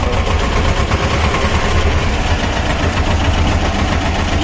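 A vehicle engine, still cold, runs loud and steady with a deep rumbling drone and a faint knocking vibration, close by with no talk.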